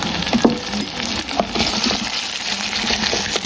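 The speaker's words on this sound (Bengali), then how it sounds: "এখন আমি পানি একটু দিয়ে যেটাতে মুরগির মাংসটা ভেজেছিলাম সেটা ধুয়ে পানি দিয়ে দিলাম সামান্য পরিমাণ" A small amount of water splashes into a cooking pan that held fried chicken, a soft steady gush running close by for a few seconds with a couple of brief clinks near the start.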